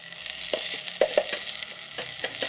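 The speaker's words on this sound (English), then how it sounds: "Cook till the onion turns to light brown or golden color. Fry this well." Onions frying in a pan for a dry Maggi masala cooked in an electric kettle, giving a steady low sizzle with a few short clicks of stirring spaced through it, with nobody talking.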